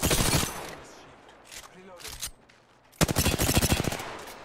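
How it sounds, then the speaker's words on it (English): Rapid automatic gunfire in the battle royale game Apex Legends comes in two dense bursts, one at the start and a louder one near the end, with a voice talking in the quieter gap between them. "they're getting shot at by another team up here"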